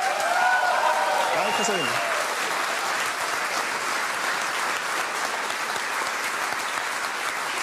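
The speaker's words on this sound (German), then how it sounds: "Ein Applaus nochmal für eure Geschwister, die Weber" An audience applauds the Weber siblings, young folk musicians on a Swiss music program, with dense, even clapping that holds steady throughout, while a voice briefly speaks near the start.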